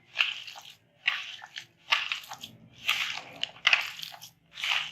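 Hands squeeze and mix a wet noodle kabab mixture in a bowl, producing a rhythmic series of close squelching, crunchy squishes roughly once a second, with no talk.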